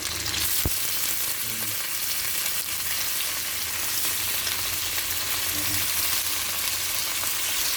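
Pork for adobo sizzles in a hot pan, with a loud, constant hiss of frying and a few faint clicks of stirring, and no voices.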